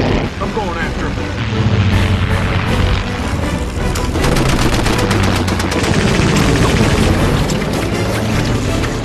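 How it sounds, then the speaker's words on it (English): Dense, loud bursts of machine gun fire rattle almost without pause during a fighter plane dogfight, mixed with booming impacts and a roaring engine wash, while voices speak over the din. "Someone's shooting back at you."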